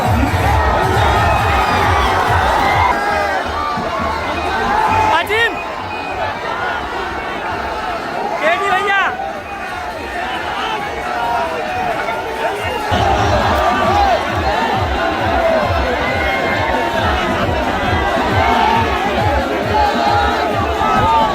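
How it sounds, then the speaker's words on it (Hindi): A large crowd roars and shouts at an outdoor Akhilesh Yadav political rally in Sant Kabir Nagar, dense cheering and chatter running loud and continuous throughout with brief swells. "अखिलेश यादव की सभा में भीड़ काफी बढ़ गई थी।"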